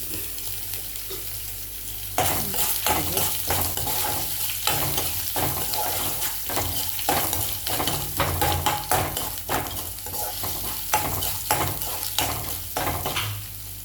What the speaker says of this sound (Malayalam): ഉഴുന്നരിപ്പും കടുകും മുളകും നന്നായി മൂക്കണേ